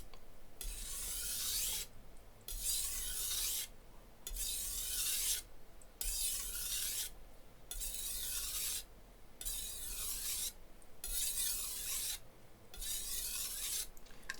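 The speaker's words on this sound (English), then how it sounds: "Now it sounds loud because it's kind of just a loud stone." A blade is sharpened on a cheap 400 grit whetstone, giving loud rhythmic rasping strokes, about eight gritty scrapes each lasting over a second, separated by short pauses.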